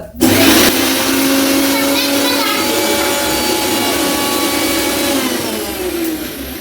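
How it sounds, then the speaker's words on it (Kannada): A mixer grinder blending tomatoes at home runs as a loud, steady whirring drone, close by and continuous from start to finish. "ಟೊಮೊಟೊ ಮಿಕ್ಸಿ ಮಾಡಿ ಚೆನ್ನಾಗಾಗತ್ತೆ"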